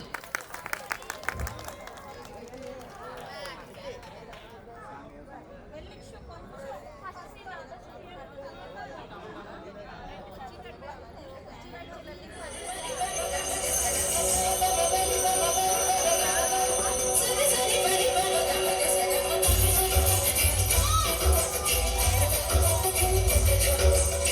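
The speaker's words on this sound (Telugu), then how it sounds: "ఎవ్రీవన్ ఒకసారి గట్టిగా చప్పట్లు" A wedding event audience bursts into loud, sustained applause and cheering, a dense wash of clapping that follows a quieter stretch of crowd chatter and talk.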